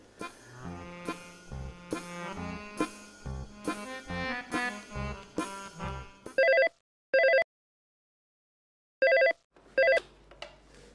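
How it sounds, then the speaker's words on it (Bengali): A telephone rings while a call is being placed: a melodic ringtone plays a repeating run of notes, then gives way to several short, sharp electronic ring bursts separated by brief silences, all heard alone with no talk. "ফোন করতেছি।"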